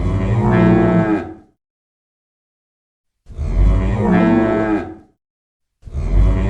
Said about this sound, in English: here's heavy warning sound done with cow mooing